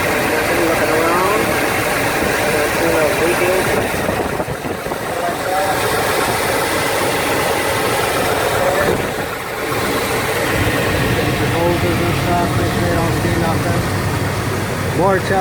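The engine of a 1999 GMC 2500 2WD pickup idles steadily and loudly just after starting, following thermostat replacement, as a continuous close rumble with someone talking over it.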